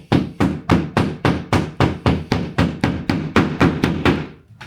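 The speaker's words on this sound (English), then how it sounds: "You probably will need a hammer for this." A hammer taps steadily on a plasterboard ball fixing being driven into a bathroom wall, about fifteen evenly spaced sharp knocks, close and clear with no talk.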